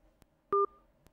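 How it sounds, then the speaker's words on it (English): A single short telephone keypad tone sounds once, pressing 1 to accept an incoming call on a phone line. It is a clear, loud beep of about a tenth of a second against near silence. "To accept this call, press 1."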